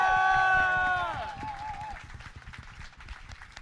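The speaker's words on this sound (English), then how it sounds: "If we give her a round of applause." Audience applause and cheering for a student group's president at a spring concert, a crowd roar that starts loud and tapers into sustained clapping with scattered voices.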